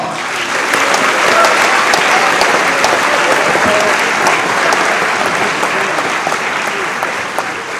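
A crowd claps steadily at a senior awards night, dense and sustained applause that swells after the first half second and slowly tapers toward the end, with no voices standing out.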